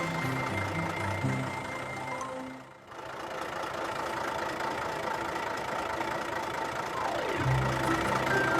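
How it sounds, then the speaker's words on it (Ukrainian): A big truck's heavy engine idles and rumbles steadily, with a brief dip midway before the low droning continues; no talking. "Велика вантажівка може їхати."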